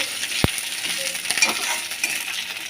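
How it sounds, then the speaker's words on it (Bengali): Ginger and green chilli paste with nigella seeds and cumin frying in mustard oil in a kadai, a soft sizzle with a sharp utensil click and light stirring scrapes. "এবার কড়াইতে সর্ষের তেল কালো জিরে আর কিছুটা জিরে আর আদা কাঁচা লঙ্কা বাটা নিয়ে নিয়েছি বেশ ভালো করে মশলাটাকে কষিয়ে নেব"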